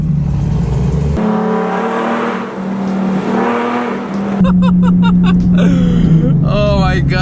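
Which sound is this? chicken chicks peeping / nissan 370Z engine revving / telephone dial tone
nissan 370Z engine revving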